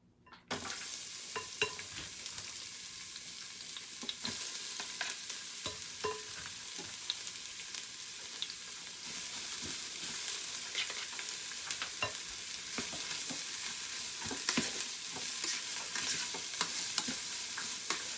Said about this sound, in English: you're going to saute the vegetables in batches